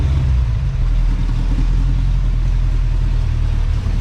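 A 1965 Ford Mustang engine runs with a little gas applied, a loud steady low rumble held close and even throughout.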